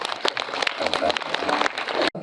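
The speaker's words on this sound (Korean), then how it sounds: "여러분들 박수 한번 좀 부탁드리겠습니다" Audience applause at a film screening Q&A with the director and an actor of Save The Green Planet (2003), a dense, steady round of clapping from a full room that cuts off abruptly near the end.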